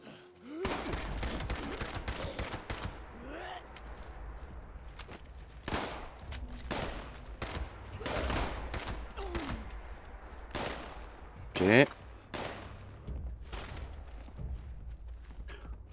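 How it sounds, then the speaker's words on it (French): Shotgun fire in the Fallout 76 video game comes as repeated sharp blasts with echoing tails, spaced irregularly across the stretch, mixed with quieter game noises and some talk. "Pas de fusil à pompe, s'il vous plaît."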